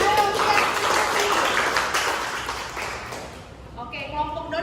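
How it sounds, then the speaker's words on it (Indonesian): Students applauding together in a classroom, a dense wash of clapping that fills most of the moment and fades out, followed by a voice speaking. "Tepuk tangan ayo untuk yang masing-masing"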